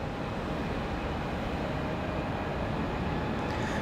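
A Republic Airways jet departing Raleigh-Durham airport in windy weather, its engines giving off a steady, broad roar with no breaks from start to finish.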